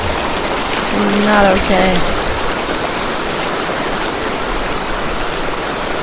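River water rushes steadily in an indie video game, a loud continuous wash of flowing water, with a brief spoken voice over it near the start.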